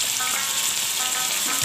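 Beef pieces and ginger-garlic paste sizzle loudly with golden fried onions in a pot, a steady dense frying hiss that runs unbroken and close throughout.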